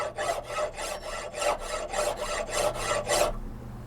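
Hand saw with an 18-tooth blade cutting through a Mosin Nagant 91/30 rifle barrel, about nine rhythmic rasping back-and-forth strokes close up, then stopping.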